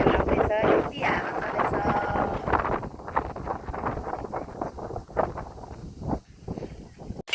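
Wind gusts outdoors in a village rumble steadily across the microphone under continuous talking.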